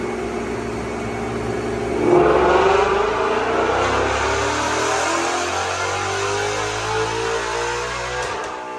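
A Vauxhall Corsa engine revs hard and roars, its pitch climbing then holding in a sustained, loud drone with continuous mechanical buzz.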